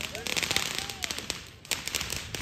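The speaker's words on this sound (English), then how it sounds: "We got the last firework already, boys." Fireworks crackle and pop during a Fourth of July celebration, a dense run of sharp bursts spread across the moment, with voices talking and calling out over them at close range.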